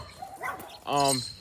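A dog barks nearby, giving a couple of short woofs and then a longer, louder bark, alongside a bit of speech.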